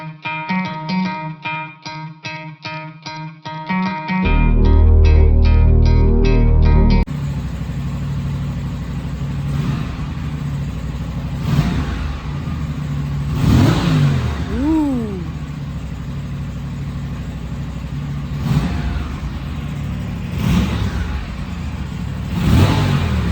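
An Aprilia Tuono 457 motorcycle engine revs several times over a steady idle, with rising and falling throttle blips and distinct swoops. It follows a short burst of loud processed music.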